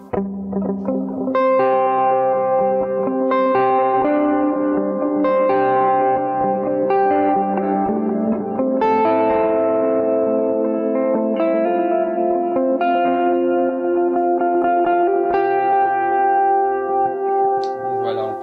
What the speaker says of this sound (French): je mets un délai, une reverb assez prononcée, on va avoir un son assez aérien